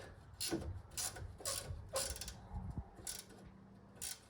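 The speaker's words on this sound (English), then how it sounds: "Undo this with your 16mm spanner" A 16mm spanner loosens a front suspension bolt on a Peugeot 106 with a series of close, quiet ratcheting clicks in short bursts, about one every half second.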